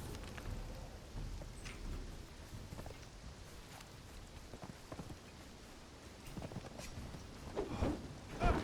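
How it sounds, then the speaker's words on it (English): Steady rainfall hisses throughout a stormy scene in the Conan Exiles video game, with low rumbling thunder underneath and a few louder bursts near the end; no one speaks. "Storm's coming."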